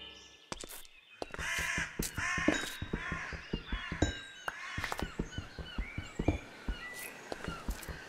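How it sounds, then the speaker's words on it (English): Birds in the Minecraft game call in the trees, a steady stream of crow-like caws and squawks overlapping one another with sharp, repeated bursts throughout, fairly close and prominent, with no talking. "I do like the sound effects, like the birds in the trees as well as seagulls and stuff."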